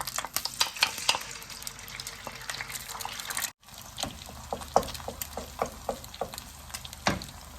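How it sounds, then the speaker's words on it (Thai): Soaked dried shrimp stir-fried with egg in a pan for pad thai, with a steady close sizzle broken by repeated scraping and tossing clatters of the spatula and a brief gap midway. "ทุกคนมาผัดกับไข่นะคะ"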